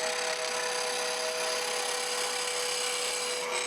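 A 3/4 inch roughing gouge, riding the bevel, cuts wood spinning on a lathe, giving a loud, continuous, close hiss that holds steady from start to finish.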